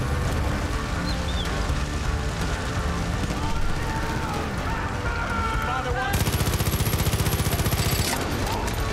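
In Far Cry 5 gameplay, guns with heavy recoil fire in continuous loud volleys, ending in a sharp, fast automatic burst while someone talks over the chaos.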